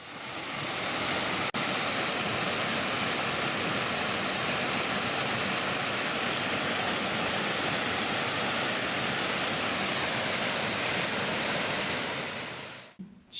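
Cool spring-fed river rising deep under the Preseli hills, running through peat: a steady, dense roar of rushing water, close and constant for about thirteen seconds with no voices, then cutting off abruptly.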